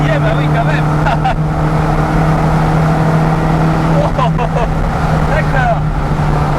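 A Mini Cooper Innocenti 1300 pulls hard in fourth gear, a loud, steady engine drone heard from inside the small car, with voices talking over it.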